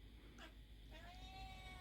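A house cat meows indoors in a room, a faint drawn-out cry rising then fading, followed by a second longer meow over steady background hum.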